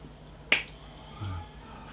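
A single sharp finger snap rings out close by, one crisp crack against a quiet room with no talking.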